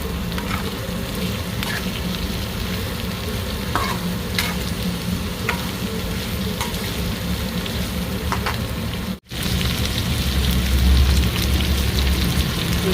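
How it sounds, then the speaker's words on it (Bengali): Ivy gourd and potatoes frying with salt and turmeric in a pan, a steady close sizzle with stirring scrapes, one brief break, then the frying continues, with no voices. "হলুদ দিয়ে কুঁদরিটা ভালো করে ভেজে নেব, সাথে আলু আছে।"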